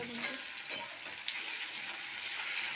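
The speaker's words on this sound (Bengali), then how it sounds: "চিংড়ি মাছ আর মশলাটা ভাজা হয়ে গেছে" Shrimp with spices, garlic paste and chopped tomato sizzles and fries steadily in a pan for a bottle gourd and shrimp curry, a continuous close hiss with a couple of brief stirring clatters and no talk.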